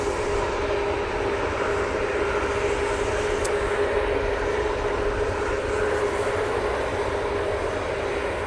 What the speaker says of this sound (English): Got this AT winglet on this Ryanair 737 MAX 8